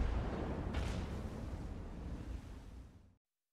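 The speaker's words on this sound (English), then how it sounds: "I explode." A warship blows up in World of Warships, a deep, rumbling blast that rolls on like surf for about three seconds before cutting to silence.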